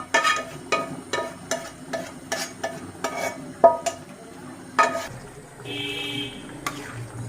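Bean seeds are added to stir-fried shing fish in a pan, bringing a quick run of close metallic scrapes and clinks from the spatula. A softer, steady sizzle follows at the end.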